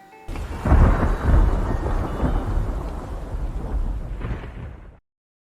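A loud, deep rumbling thunderclap from a lightning storm, close and sustained for several seconds with a rolling, crackling tail, mixed with rain and no voices.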